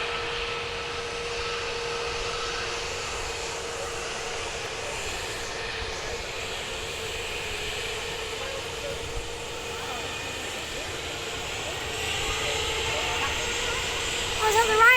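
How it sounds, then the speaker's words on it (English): Jet engines of a Ryanair Boeing 737 MAX at Manchester Airport keep up a steady whine and roar from a distance, swelling near the end with a louder surge. "is that the Ryanair making those engine sounds?"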